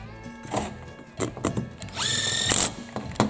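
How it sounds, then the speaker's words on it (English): Bursts of a cordless impact driver spinning in small screws while reassembling an Echo SRM-280 weed trimmer engine, a few short whirring runs with one longer rattling burst near the middle, close and fairly loud, no talking. "Is he really gonna use that impact to start that little screws?"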